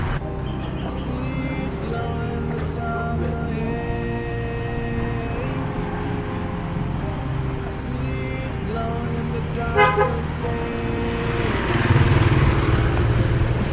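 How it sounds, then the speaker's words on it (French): Street traffic in Hanoi, Vietnam rumbles steadily with engines passing, and a car horn honks in short bursts amid the busy road noise. "Ils ne peuvent pas s'empêcher de klaxonner de partout tout le temps."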